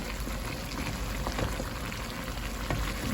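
Spice masala stirred in a pan with beef trotters, a thick low bubbling fry with soft stirring scrapes, moderately loud and steady.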